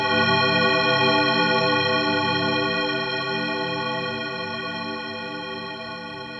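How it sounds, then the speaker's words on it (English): A vocoder in BW mode inside Ableton gives off a sci-fi sound like a spaceship corridor. A dense, buzzing chorused drone holds loud and steady, then slowly fades with no speech. "it sounds very sci-fi, like some sort of like sci-fi corridor spaceship sound you might hear"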